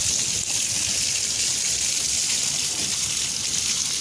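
A leak in Santa Clara, Cuba, sends out a strong, continuous gush of water, a loud, steady broadband rush heard up close and alone, with no talking.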